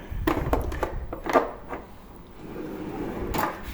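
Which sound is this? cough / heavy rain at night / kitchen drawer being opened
kitchen drawer being opened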